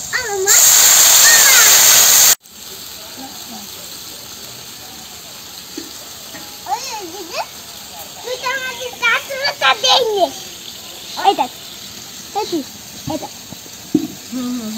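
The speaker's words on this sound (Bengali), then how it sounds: "আলুটা ভেজে নিয়েছি, এবার পরিমাণ মতো জল দেব।" Water is poured into a pan of fried potatoes in a village kitchen: a loud, steady rush for about two seconds, then it stops and children chatter nearby.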